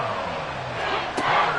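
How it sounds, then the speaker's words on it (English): A stadium crowd in a football video game roars as a steady, loud wash of cheering noise, swelling slightly toward the end with a brief burst of louder noise. "This crowd turning up the decibel level."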